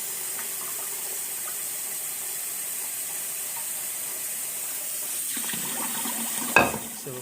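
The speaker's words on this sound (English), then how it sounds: "So we'll get warm water in here." Warm water runs from a tap into a container with a steady hiss under faint background, and a brief clatter and splash arrives near the end.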